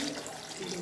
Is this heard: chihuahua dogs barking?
no